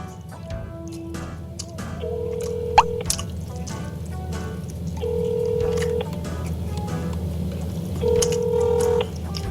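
A telephone ringback tone sounds in the earpiece: three long, even beeps spaced a few seconds apart over a low background hum.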